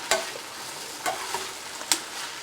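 Vegetable biryani ingredients are stirred in a pan, three or four sharp spoon scrapes against the metal over a soft, steady sizzle.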